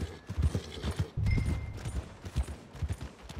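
Horse hooves clip-clop in an irregular walking rhythm in the Red Dead Redemption 2 video game, close and fairly quiet, with a brief louder thud partway through.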